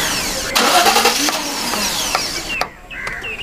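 A car engine cranks repeatedly but fails to catch, a close, loud whirring starter grind that rises and falls over a few seconds before briefly cutting out.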